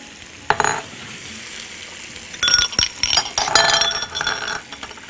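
Peppers and onions fry in a pan, with bursts of sizzling and stirring, metallic clinks of a utensil, and quieter gaps between.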